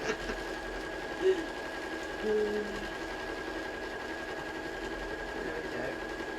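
A sewing machine runs a seam on a cushion with a hidden zip, giving a continuous close mechanical whirr with small bumps in its drone.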